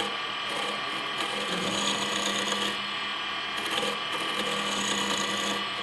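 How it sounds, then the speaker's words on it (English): Woodturning tool scraping a spinning wooden sphere on a lathe during multi-axis sphere turning, a steady continuous rasping hiss with slight sweeping variations, close and moderately loud. "But I will scrape here in a second, so."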